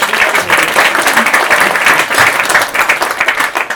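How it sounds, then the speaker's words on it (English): An audience at a parlour-trick magic show applauds a volunteer, a loud, dense burst of clapping that runs throughout. "A round of applause for Anne."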